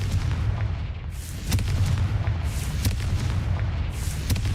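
Explosive fire spell blasts in the video game Hogwarts Legacy: a run of heavy booms, like artillery fire, struck at roughly one-second intervals over a constant low rumble.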